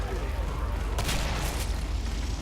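Gunfire in the video game Killing Floor: two quick, muffled bursts of shots rise briefly out of a dense, constant wash of game noise.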